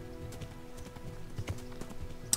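Horse hooves in the video game Kingdom Come: Deliverance clip-clop at a steady walking pace, soft and fairly close, with a low ambient hum underneath and a brief bright tone near the end.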